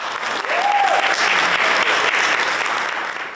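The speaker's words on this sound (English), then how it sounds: "Round of applause." A crowd at a panel discussion applauds steadily, dense continuous clapping filling the space at moderate loudness for a few seconds.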